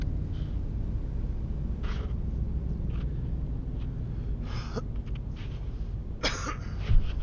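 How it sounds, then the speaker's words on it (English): Several short, breathy coughs and throat clears come in scattered bursts over a steady low road rumble inside a moving car. "You know, a little coffee cough here and there."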